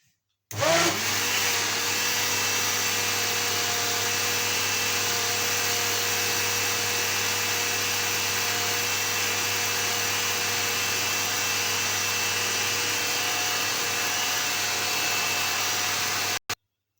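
A countertop blender runs at full speed beating oil into tiger cake batter, starting abruptly and holding a loud, steady motor whine and whir for about sixteen seconds before cutting off, heard alone and close.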